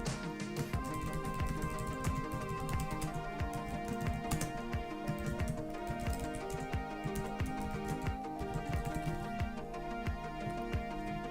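Computer keyboard typing a post title, steady run of clicky keystrokes for several seconds with background music throughout, no talk.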